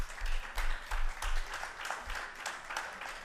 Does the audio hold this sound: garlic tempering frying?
no